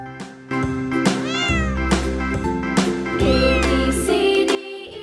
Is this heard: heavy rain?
no